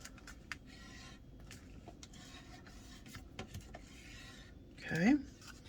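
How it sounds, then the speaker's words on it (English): Paper on a photo album is burnished by hand with steady, soft rubbing strokes in repeated short bursts, close and quiet, followed by a brief louder scrape near the end. "Okay, we'll give this a burnish."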